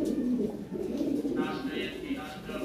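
Fancy pigeons for sale, short-tailed breeding pairs, coo softly and repeatedly in a loft, a low steady murmur with faint chirps above, while someone talks over them.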